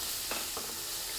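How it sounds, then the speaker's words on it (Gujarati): Chopped vegetables sautéing in oil over a medium gas flame, a constant close sizzle broken by two quick stirring scrapes, with no voices. "ગેસની ફ્લેમ મીડિયમ રાખી અને બધા જ વેજીટેબલ તેલ સાથે એકદમ મસ્ત સાંતળી લેશું"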